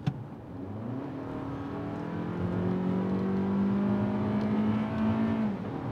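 Four-cylinder engine of a midsize crossover accelerating in sport mode, a steady rising drone with a clear climbing pitch as revs build, heard from inside the cabin, loud and unbroken with no talk.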